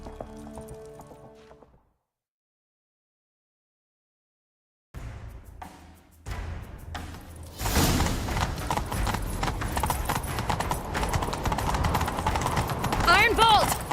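A horse gallops in The Witcher 3 video game, steady hoofbeats building loud and continuous after a silent gap, with game sounds and a voice over the rhythm.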